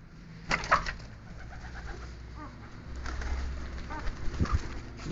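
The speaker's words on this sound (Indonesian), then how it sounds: "Malah merpati turun." Pigeons coo softly in a low, repeated murmur near a chicken breeding coop, faint over quiet background rustling, with a few brief flutters.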